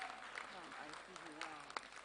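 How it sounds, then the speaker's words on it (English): Audience applause at a junior national spelling bee prize award, a steady wash of clapping lasting about two seconds, with a voice speaking over it. "Round of applause,"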